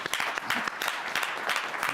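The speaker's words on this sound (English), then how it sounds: "Y'all give the Cotton family a round of applause" A round of applause fills a city council meeting chamber, dense overlapping claps from the audience at steady, moderate loudness for the whole stretch.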